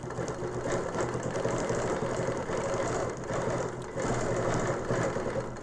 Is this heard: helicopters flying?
no